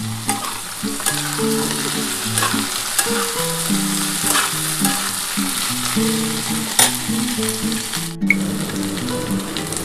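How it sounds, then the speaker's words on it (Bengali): Tender okra and potato pieces frying in oil in a pan for a vegetarian poppy-seed dish, a close, continuous sizzle with occasional stirring scrapes and clinks, no voices. "আগে আলু ভেন্ডিটা আগে প্রথমে একটু ভেজে নিই"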